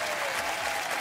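Studio audience applauding at the close of a round of the French quiz show Le Maillon Faible, a loud, dense burst of clapping that fills the whole moment without a break.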